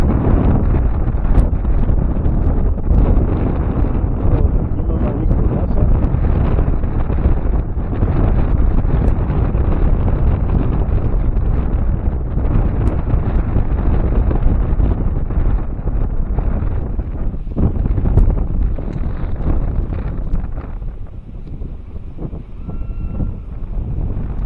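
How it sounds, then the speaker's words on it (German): Strong wind roars continuously into the microphone on a beach at Maspalomas, Gran Canaria, a loud, dense rumbling buffet that barely eases toward the end, with no voices heard. "der Wind kommt jetzt genau entgegen und deswegen wird es ein bisschen laut werden"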